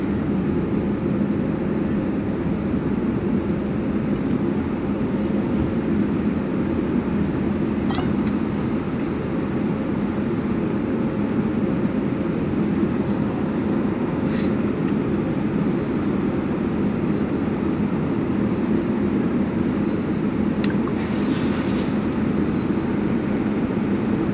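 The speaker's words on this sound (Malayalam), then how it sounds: "ഫ്ലൈറ്റ് ടേക്ക് ഓഫ് ആയി" Steady, loud cabin roar of a passenger flight during takeoff, an unbroken low rumble and broadband rush lasting throughout, with a few faint clicks and no talking.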